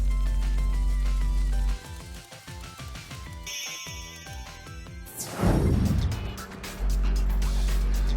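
Cars race in the video game Sonic Racing Transformed: upbeat electronic game music plays throughout while a loud whooshing pass sweeps through midway, with no speech.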